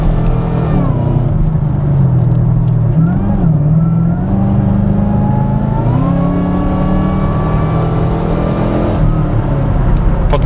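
A 600 hp Chevrolet Camaro SS V8 accelerates hard from inside the cabin, its engine tone climbing with a steady whine layered on top, loud and continuous with a brief voice beneath.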